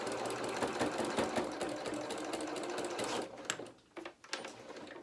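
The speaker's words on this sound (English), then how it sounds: "Now when we get to the end, I'm going to reverse stitch again." A sewing machine reverse-stitches at the end of a seam on a small toy's winter skating coat, a rapid rattling run of stitches that slows and breaks into a few short bursts near the end.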